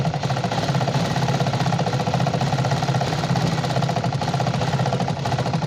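A sewing machine stitches petticoat fabric in straight seams with a continuous rapid mechanical whir and close, even ticking. The rhythm stays steady throughout.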